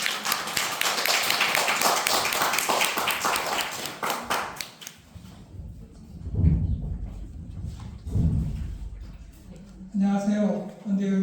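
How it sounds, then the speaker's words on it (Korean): Audience applause before a lecture at a Korean science academy event, a dense burst of clapping lasting about five seconds that fades out, followed by someone speaking. "그럼 뜨거운 박수를 부탁드립니다."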